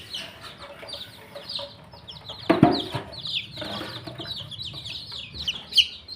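Mother hens cluck softly with hatched chicks at a poultry sale, layered chirps and clucks scattered across the moment with a brief louder flutter or squawk near the middle.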